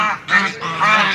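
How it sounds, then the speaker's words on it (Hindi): Ducks on a farm quacking loudly and close by, two or three quick nasal calls in a little over a second. "यहाँ पे बत्तखें वगैरह हैं और मुर्गे वगैरह हैं।"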